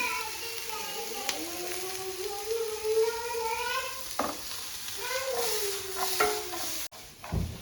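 Vegetables sauté in a pan for a veg roll, a soft sizzle and stirring scrape running beneath tonal, voice-like sounds close by.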